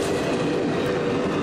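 The CSX Santa train rolls past with a steady, loud rumble of railcars and faint clickety-clack and wheel noise, close by and with no one talking.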